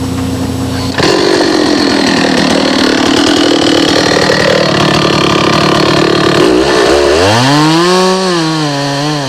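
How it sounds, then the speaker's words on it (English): A tree faller's chainsaw clears a right-of-way through Alaskan forest. It starts abruptly and roars loudly and steadily close by, then revs up and down in rising and falling sweeps. "tree faller Perry Apostolus, who clears a right-of-way with his axe and chainsaw."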